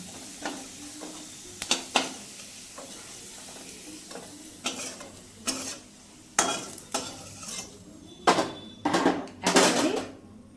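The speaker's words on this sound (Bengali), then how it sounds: "আলুটা ভাজা হয়ে গেছে" Potatoes sizzle and fry in a pan while a utensil repeatedly scrapes and clinks against it in irregular bursts, growing louder toward the end.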